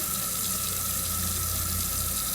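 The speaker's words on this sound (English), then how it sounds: "Okay, I'm gonna rinse them off." Kitchen tap running water over fresh mushrooms being rinsed in a sink, a steady, close, unbroken rush of water with no talk.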